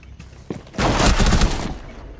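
Burst of gunfire in Rainbow Six Siege, a dense loud volley about a second long after a couple of quieter shots, with no talking.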